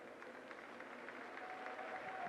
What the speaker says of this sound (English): Good sign with the crowd clapping for the injured player.